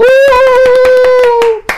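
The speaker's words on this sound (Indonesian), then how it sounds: "Tepuk tangan untuk seminari Matuloko." Clapping in a podcast studio as applause for the Matuloko seminary: a couple of seconds of hand claps under a long, steady held vocal tone, breaking off abruptly near the end.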